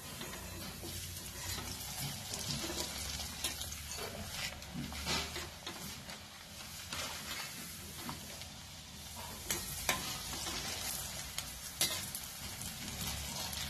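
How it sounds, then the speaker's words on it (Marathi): Sago papads (sabudana kurdya) fry in hot oil with a steady, dense sizzle and bubbling crackle throughout, with occasional sharper pops near the end. "शाबूच्या कुरड्या चांगल्या भाजून घ्यायच्या"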